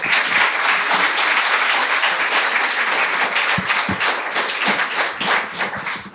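Steady audience applause at a social forum anniversary event in the Dominican Republic, a mid-distance wash of many hands clapping with a few sharper thumps near the end.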